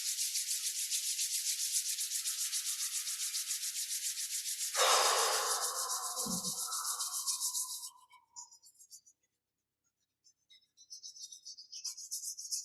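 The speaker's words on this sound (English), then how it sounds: "we'll rub our hands together, generating some heat in our palms" Palms rubbed briskly together to build heat during a Wu Dang style Eight Treasures qigong exercise, a steady close dry rasping that runs continuously for several seconds, then fades out into near silence before a lighter rubbing resumes.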